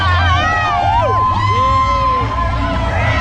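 Dense crowd lining the NYC Marathon course cheering and shouting close by, with whoops and children's voices rising over a continuous roar of babble.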